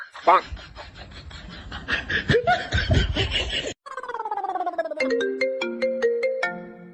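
A mobile phone ringtone for an incoming call plays a bright melodic tune after laughter and chatter, ringing clearly near the listener.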